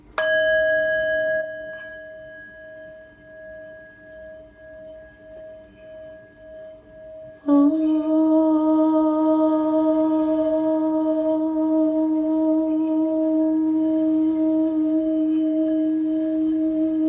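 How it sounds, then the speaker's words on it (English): A sound bowl struck for a clearing rings out with a sustained pure tone that slowly fades in gentle pulsing waves, then is struck again more loudly and keeps ringing with bright overtones, no voices present. "So we're just going to do a little bit of a clear with the sound bowl."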